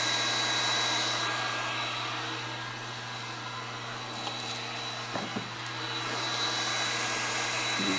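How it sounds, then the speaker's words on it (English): Cooling fans run inside a DIY 24V solar generator, making a steady whirring hum with a constant tonal drone, moderately loud and unbroken, with a few faint clicks and no speech. "All the fans are definitely running."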